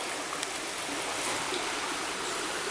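Water rushes and burbles steadily in a nearby stream at the remains of Denbigh Dam, a constant bright hiss of flow with no voices.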